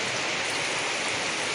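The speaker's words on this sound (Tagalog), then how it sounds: "Maulan, maulan." Steady rain falling in a rural province, a dense, even hiss that continues without a break for the whole moment, with no voices over it.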